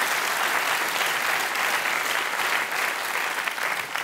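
Steady applause from a German political cabaret studio audience, dense and continuous clapping that holds at an even volume for several seconds.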